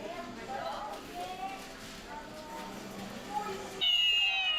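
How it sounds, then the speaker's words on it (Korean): A toy cat in a Hokkaido Christmas shop that sounds when hands clap gives out mewing, meow-like calls amid talk, followed by a brighter, louder electronic tone near the end. "박수치면 소리내는 고양이"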